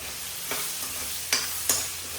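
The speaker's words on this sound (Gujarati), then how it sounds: "એકદમ આપણે એકદમ સરસ ચિપ્સ કરી નાખશું તૈયાર એકાદ મિનિટ જેમ સસડવા દઈશું તેલમાં" Potato slices for sabudana khichdi sizzle in hot oil, a steady close frying hiss broken by a few brief scraping stirs.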